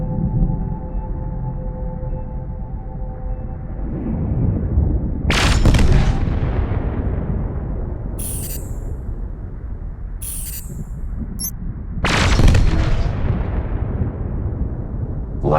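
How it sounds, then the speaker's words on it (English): Laser weapons fire in the SpaceBourne space combat game, a few sharp bursts and zaps standing out over a constant low engine hum, with no talking. "Now let's try laser weapons."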